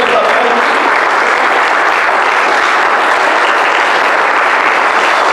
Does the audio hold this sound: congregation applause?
yes